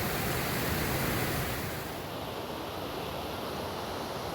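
Creek water flowing at Bikos Creek Bridge on the Pacific Crest Trail, a dense steady rushing wash, loud and close, easing slightly partway through, with no voices.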